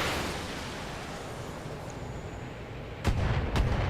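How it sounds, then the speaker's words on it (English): Mortar artillery fire from the video game BattleTech, a dense rumbling barrage under which two sharp, loud booms crack out near the end. "I can hit the mortar, the bombard with our mortar here. Let's actually do precision strike."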